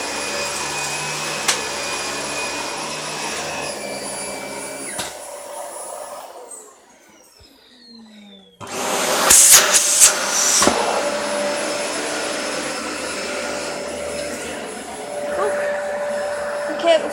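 A Dyson DC40 vacuum cleaner powers up and runs with a loud, steady motor whine. It dips briefly to a low hum, then surges back to full, roaring suction.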